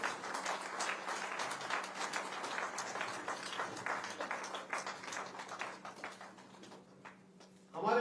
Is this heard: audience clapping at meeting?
yes